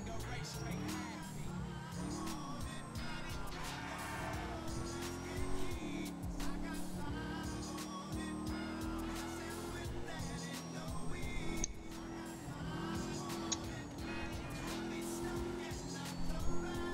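A car driving steadily, its engine droning loud and close with shifting pitch as it changes gears, road noise continuous throughout while people talk inside.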